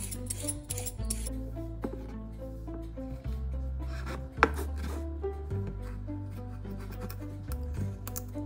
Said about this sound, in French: J'ai coupé 3 carottes et 2 oignons.